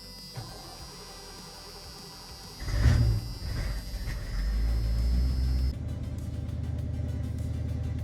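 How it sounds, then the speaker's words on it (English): A small block Chevrolet V8 with a Quadrajet carburetor in a square body Chevy cranks and catches, then settles into a deep, steady rumbling warm-up idle nearby after a brief rev, with a faint whine early on. "Simple small block Chevrolet quadra-jet carburetor. Let the choke hit and it warms right up."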